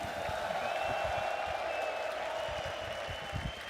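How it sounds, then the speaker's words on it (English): An arena crowd at Royal Arena applauds and cheers the G2 esports team at a PGL Counter-Strike 2 event, a steady, dense wash of clapping and crowd noise. "Give it up for Nico and G2."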